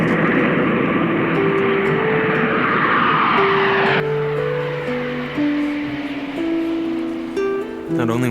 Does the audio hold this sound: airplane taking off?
yes